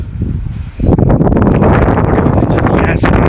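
Strong wind blows across a mountain pass by a lake in Dhankuta, buffeting loudly and roaring up after a quieter start.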